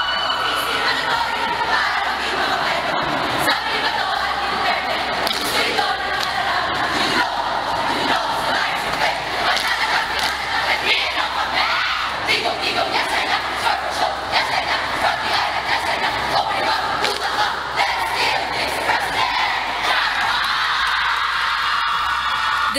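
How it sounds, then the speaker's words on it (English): Students chant in unison during a cheering performance, a loud, sustained crowd of massed young voices shouting rhythmically throughout, dense and continuous with no pauses. "The cheering performance has been criticized on social media by the Duterte administration supporters."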